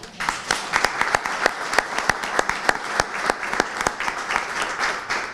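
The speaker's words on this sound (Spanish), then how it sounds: "un aplauso." Audience applauding at a book presentation of aphorisms, a steady burst of many hands clapping close and loud throughout, with no talk over it.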